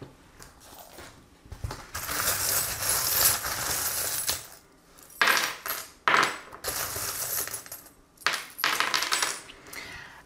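Small metal divination charms clink and scatter as they are cast and dropped during a card reading, bursts of jingling rattles separated by brief pauses, close and alone.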